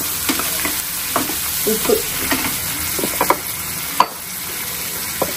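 Onions and tomatoes sautéing in a pan for a chicken dish, a continuous soft sizzle with intermittent stirring scrapes and taps, a word spoken briefly over it.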